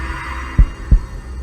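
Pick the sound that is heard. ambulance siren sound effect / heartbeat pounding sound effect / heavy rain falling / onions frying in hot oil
heartbeat pounding sound effect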